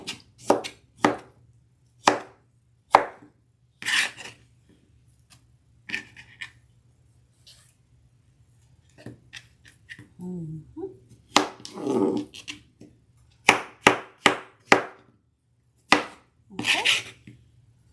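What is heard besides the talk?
knife chopping fruit for fruit salad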